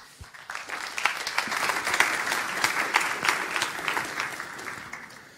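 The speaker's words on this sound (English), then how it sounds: "Please a round of applause for Lubosz." Steady audience applause at a Linux conference talk, a dense, even wash of many hands clapping that swells quickly and holds for several seconds at moderate distance.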